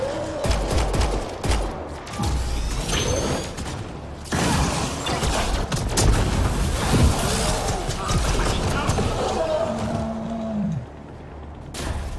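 Pistol gunfire in the video game Mass Effect Andromeda: repeated sharp shots ring out in bursts amid mechanical clanks and game combat noise, loud and close throughout.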